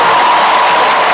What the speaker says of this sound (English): UConn, make some noise, clap it up for yourselves!